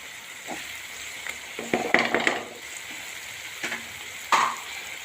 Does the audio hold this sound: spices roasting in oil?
yes